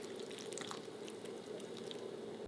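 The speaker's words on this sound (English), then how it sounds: "so I'm just gonna pour it into my bowl" Homemade soup is poured from a pot into a bowl, heard as a steady liquid pour with a faint hum underneath and small splashing drips.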